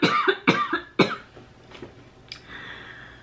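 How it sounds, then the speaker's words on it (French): Three sharp coughs in quick succession from a person close by, followed by quieter breathy throat noise and a faint scrape; no words spoken. "Attention, je vais encore tousser."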